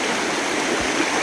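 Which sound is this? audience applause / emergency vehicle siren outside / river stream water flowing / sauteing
river stream water flowing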